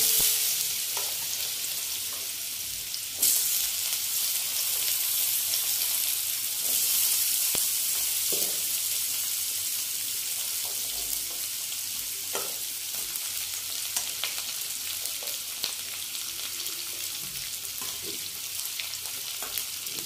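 Radish pieces frying in a pan with bay leaf and dried chili, giving a steady close sizzle with intermittent scraping stirs and clinks throughout.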